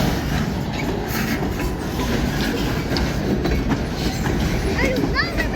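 A long freight train of boxcars led by ELS 503 and 400 rolls past close by with a loud continuous rumble and rhythmic wheel clatter, a faint squeal near the end, while people talk nearby.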